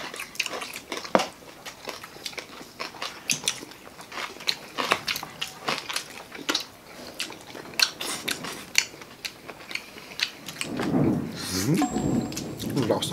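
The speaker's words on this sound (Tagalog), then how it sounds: "Lakas ng kulog ko. Parang may nagbabowling sa second floor." Thunder from a storm rolls in as a low, muffled rumble near the end, heard indoors behind frequent close clicks and clatter from eating and dishes.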